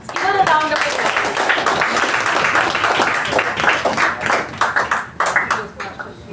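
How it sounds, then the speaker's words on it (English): An audience applauds at a Toastmasters meeting installation ceremony. The clapping is dense and continuous, and a voice carries over it at the start. "Give her a round of applause."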